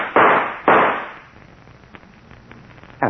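Gunshots in an old time radio drama, two loud close bangs in quick succession followed by a quieter tail of faint pops and rustle.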